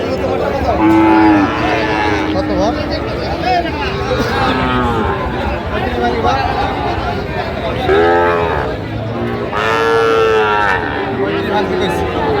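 Cattle moo repeatedly at a market in Sylhet where Sahiwal heifer calves are being sold, with drawn-out calls rising over a steady crowd murmur and people talking nearby.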